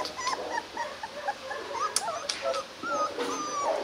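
A litter of eight Rottweiler puppies whimpers and yips in a chorus of high, thin cries, overlapping and close by, with occasional sharper yelps; no one talks.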